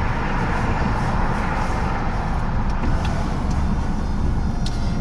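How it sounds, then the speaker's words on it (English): Steady, loud roar of M5 motorway traffic drifting in through the open window of a car, a continuous broadband wash without pauses or voices. "All I can hear is the M5 motorway."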